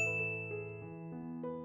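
A bright notification bell dings several times in a row, clear, close and ringing with tonal overtones, each strike fading into the next with no voices present.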